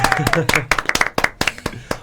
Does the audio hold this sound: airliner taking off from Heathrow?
no